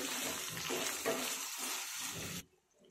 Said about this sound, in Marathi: आता यामध्ये 2 मीडियम साइजचे टोमॅटो कट करून घेतलेले आहे, याला 1 मिनिटभर परतून घ्यायचे।